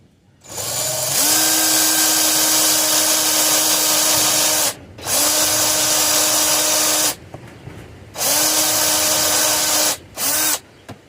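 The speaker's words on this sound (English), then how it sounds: "I could use my drill press," A drill press bores into a basswood crankbait body in several loud, close bursts of steady motor whine, each several seconds long, separated by short pauses where the motor spins down.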